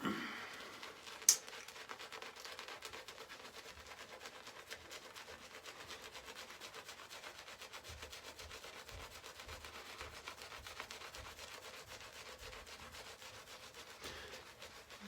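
A soft shaving brush works soap into a lather on the face with a quiet, close, rhythmic scrubbing that continues steadily, with no talk.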